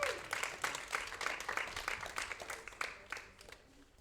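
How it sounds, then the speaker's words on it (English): An audience applauds to welcome a man named Jacob onto the stage at a convention introduction event, a moderately sized crowd clapping steadily and fading out toward the end. "Could you please give a big round of applause to Jacob?"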